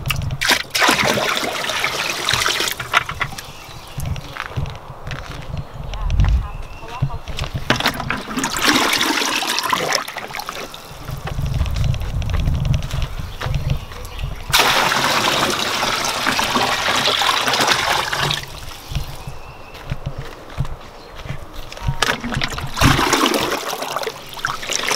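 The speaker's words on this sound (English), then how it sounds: "the amount of water kind of coming out of the hose" Water pours steadily from a garden hose into a turtle stock tank, a continuous gushing, splashing stream that swells and eases in loudness, with no voices over it.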